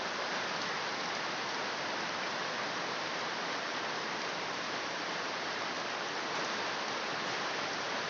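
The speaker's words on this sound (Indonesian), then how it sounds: "Kemarin itu hujan deras ya." Heavy rain pours steadily on a farm during the rainy season, a dense, unbroken hiss of drops hitting surfaces, loud and even throughout with no voices.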